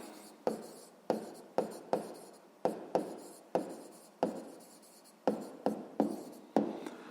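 A word is written out in a math solution with a dozen or so crisp, scratchy strokes in an uneven rhythm. Each stroke fades quickly, recorded close and quiet with no voices.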